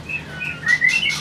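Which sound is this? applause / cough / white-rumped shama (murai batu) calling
white-rumped shama (murai batu) calling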